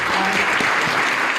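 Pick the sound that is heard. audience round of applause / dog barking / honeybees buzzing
audience round of applause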